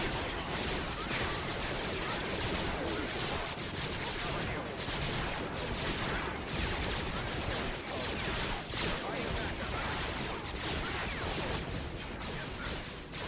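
A dense, continuous roar of blaster and cannon fire from a Thrawn's Revenge battle in a Star Wars strategy game, loud and unbroken throughout, with faint speech mixed in.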